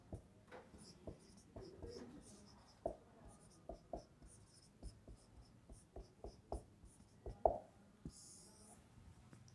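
A pen scratches out a math question by hand in a number-system lesson, with quiet strokes and taps in an uneven rhythm, faint and close, with no talking.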